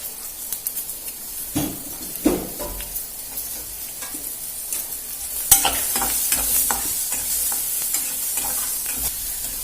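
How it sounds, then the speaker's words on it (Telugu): Green chillies and tempering spices fry in oil in a pan, giving a steady sizzle broken by repeated scraping stir strokes and a sharp knock of the spoon, close and loud. "సో మన పోపు వేగింది కదా ఫ్రెండ్స్"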